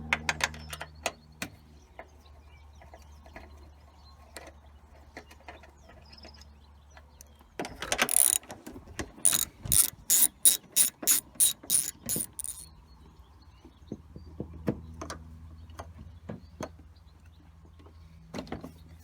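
A ratchet wrench undoes the headlight bolts on a Toyota Celica, a close, crisp run of rapid clicking strokes in the middle, with scattered metallic taps and handling noises before and after, no talk.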